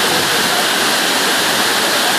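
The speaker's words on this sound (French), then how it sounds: "à la cascade de Limón." El Limón waterfall in Samaná, Dominican Republic, roars as a steady, loud broadband wash of falling water, continuous and close with no break.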